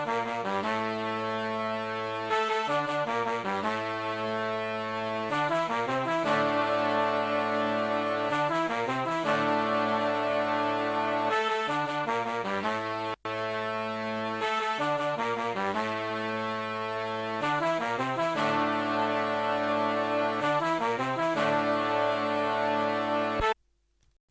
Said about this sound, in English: I added a brass from Zenology, which is playing the melody